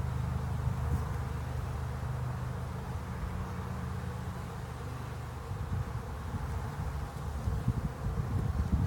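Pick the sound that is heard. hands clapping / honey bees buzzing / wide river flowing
honey bees buzzing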